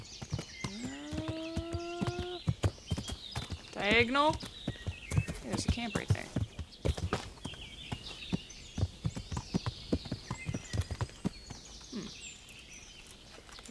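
Horse hooves clip-clop steadily while riding in the video game Kingdom Come: Deliverance, a moderate walking rhythm that runs throughout beneath a talking voice, with a horse snort and animal calls early on.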